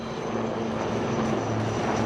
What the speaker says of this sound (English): you can now see the advanced light helicopters Mark IV of the Indian Army, known as the Rudra